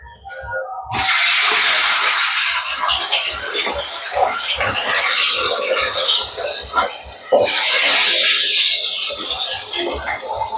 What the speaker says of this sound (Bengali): তেলটা গরম হয়ে গেছে, এবার আমি একে একে মাছগুলো ছাড়বো।